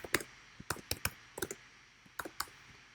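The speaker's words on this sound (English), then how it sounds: "and start typing away" Typing on a computer keyboard while writing a blog post, irregular bursts of crisp close-up key clicks in small clusters with short pauses between.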